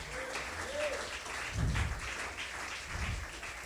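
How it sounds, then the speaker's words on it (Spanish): A church congregation applauds during a Sunday service, a soft, steady patter of clapping heard at some distance with a couple of low thumps. "¿Alguien me puede ayudar dando un aplauso al Señor?"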